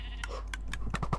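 Several short sheep bleats from the Minecraft Sheep Quest mini game, small rapid game sound effects in quick succession over a steady low background hum.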